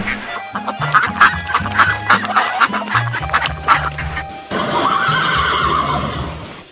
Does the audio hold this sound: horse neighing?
yes